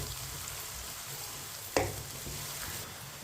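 Garlic and ginger fry over medium heat in a pan, browning for a beef karahi. A steady sizzle hisses throughout, broken by a sharp clatter from a spoon or pan partway through.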